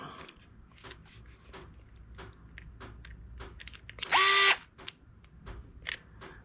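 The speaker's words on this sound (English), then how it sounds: "let me just use my handy dandy DeWalt" A DeWalt power drill briefly driving a screw while rewiring an extension cord, a short loud whirring burst amid small handling clicks and knocks.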